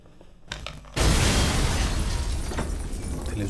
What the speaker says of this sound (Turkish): Televizyon patladı ya lan.